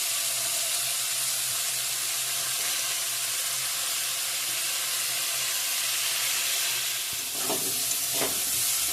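Continuous close frying sizzle in a pan, ending with a couple of splashy scraping bursts near the end; no talking.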